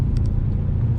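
A Ford Ranger Raptor pickup on the road gives off a low, steady engine and road rumble from inside the cabin, loud and continuous with a couple of faint high ticks.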